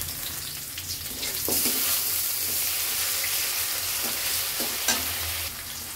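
Onion, bay leaf, ginger paste and garlic paste frying in hot oil, a dense continuous sizzle and hiss with occasional stirring scrapes, close and steady throughout.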